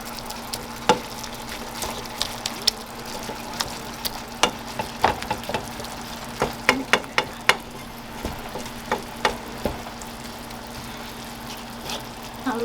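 Ground meat filling for sumbusas sizzles steadily in a pan, with a spoon or spatula scraping and tapping at irregular intervals as it is stirred, close and moderately loud with no talking.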